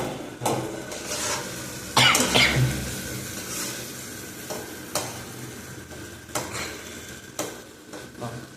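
Eggs cook in a pan, a low sizzle under repeated scraping and stirring of a utensil against the pan, with occasional clinks and a cough.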